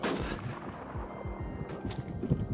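Rapid gunfire in the video game Warz rattles off in quick repeated bursts, fairly quiet and dense, with short pauses between volleys.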